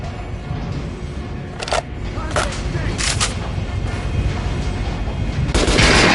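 Several gunshots ring out at a training dummy in Metro Last Light, spaced single cracks over a rumbling background with a heavier burst near the end.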